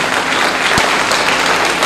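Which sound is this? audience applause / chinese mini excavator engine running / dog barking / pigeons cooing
audience applause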